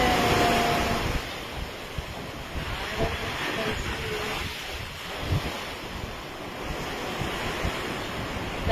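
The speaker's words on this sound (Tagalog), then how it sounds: "Nice feelings when you sleep and you hear the waves of the sea." Sea waves on the shore below a seaside balcony in the Philippines: a broad, steady wash of surf with slow swells and wind-like rushing, continuous and moderately loud, with no clear talking.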